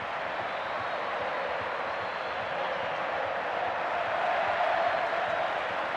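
A rugby stadium crowd at an Argentina v Scotland match gives off a steady, broad roar of cheering and noise throughout, swelling slightly near the end.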